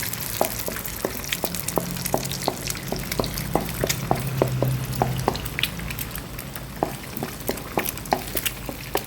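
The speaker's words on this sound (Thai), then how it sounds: "พอไข่เริ่มสุกนะคะ เราก็จะผัด ให้เข้ากับกระเทียมไปก่อนค่ะ" Eggs stir-frying with garlic in a pan: a constant sizzle broken by regular scraping taps of a spatula against the pan, close up and rhythmic, with no one talking.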